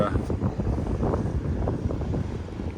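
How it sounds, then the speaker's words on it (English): Wind in Scotland buffets the microphone in a steady low roar with gusty fluctuations, close and continuous, with no clear voices. "And a little windy too."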